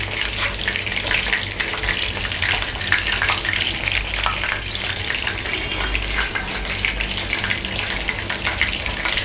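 Chicken pieces deep frying in hot oil for restaurant-style chilli chicken, a loud, steady crackling sizzle with bubbling that runs unbroken throughout, close up and with no talking.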